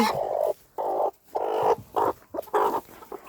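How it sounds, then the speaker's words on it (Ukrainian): A pushy Australorp hen in a farmyard squawks loudly and close by, repeating harsh drawn-out clucking calls in uneven bursts with brief gaps between them. "Дивись, яка нагла курка ця австралорпиха"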